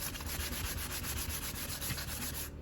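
Steady abrasive rubbing of a sanding block over tiny rough spots on a 40 oz Bubba water bottle, a continuous close scratchy hiss with even strokes that stops abruptly near the end.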